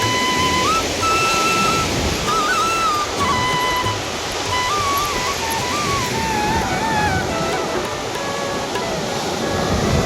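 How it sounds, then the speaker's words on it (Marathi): Loud, continuous roar of rough surf breaking on rocks at Bamanghal natural rock fountain on Hedvi beach, a dense unbroken wash of crashing water with thin high whistles drifting over it. "किती समुद्र खवळलेला आहे आणि लाटा कशा जोरदार आपटत आहेत त्याच्या"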